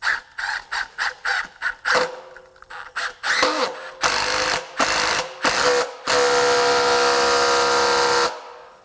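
Rapid bursts of an impact driver hammering a bit, short clattering rattles first, then longer sustained buzzing runs, close and loud.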